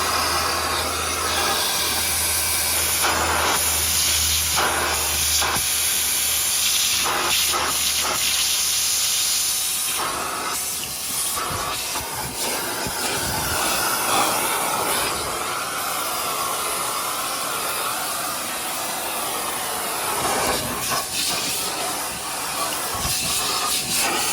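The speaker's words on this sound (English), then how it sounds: "Probably need to do some vacuuming because that's most likely what you guys want to see now." A Milwaukee 0920-22HD wet/dry vacuum runs continuously with a loud, broad rushing hiss of airflow, its tone shifting as the nozzle moves and the suction changes, with no talking.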